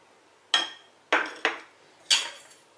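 Metal spoon striking a pan while mixing Kerala-style mango pickle with asafoetida, fenugreek and chili powders, four sharp clinks in quick uneven succession, close and fairly loud.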